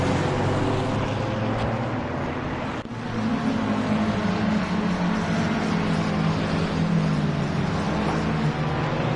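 A little car's engine idles and revs steadily while warming up, a loud continuous drone with a brief dip partway through, no voices.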